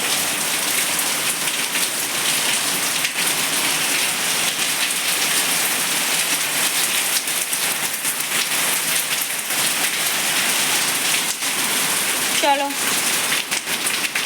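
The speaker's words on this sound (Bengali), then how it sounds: "এই যে দেখো বাইরে বৃষ্টি শুরু হয়েছে" Steady rain falls outside, a dense continuous hiss with no pauses, loud and even throughout; a brief faint voice-like sound near the end.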